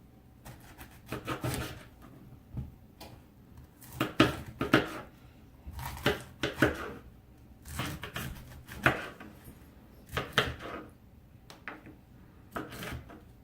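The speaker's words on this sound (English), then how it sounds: "so now we're just going to cut this up into bite-sized or 2 bite-sized pieces" A knife cuts cauliflower heads into bite-sized pieces on a board, producing clustered chopping knocks in irregular bursts, close and fairly quiet, with no talk.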